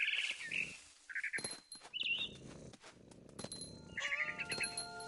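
A cat in the game What Remains of Edith Finch, several short meows and chirping cries spaced across the scene over soft ambient game sounds and rustling.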